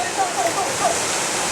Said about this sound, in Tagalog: So this is the last waterfalls, guys. So the David Waterfalls.